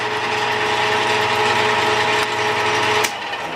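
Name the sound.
lathe cross slide hitting limit switch and shutting off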